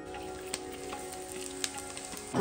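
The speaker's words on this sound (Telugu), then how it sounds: "నూనె పోసిన, జీలకర్ర వేసిన, ఉచ్చిమిరపకాయలు వేసిన, పచ్చికాయలు వేసిన, ఉల్లిగడ్డ ఇక ఇది ఉడకాలి" Cumin seeds, chillies and onion sizzle in hot oil for goat head curry, a steady soft crackle with a few sharp pops, ending in a louder burst as more ingredients hit the pan.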